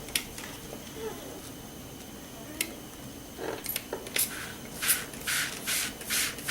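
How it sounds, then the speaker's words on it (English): Several short bursts of a spray bottle spraying water onto watercolor paper hiss in quick succession, preceded by soft rubbing and shuffling of paper. "Then I'm going to spray it."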